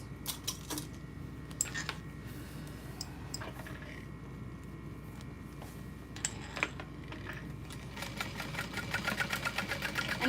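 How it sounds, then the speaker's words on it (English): A sewing machine stitches over backpack straps through an accent piece, running in steady bursts with short pauses, its rapid mechanical rattle close and continuous beneath a low hum, speeding up toward the end. "so that I can sew over the straps twice"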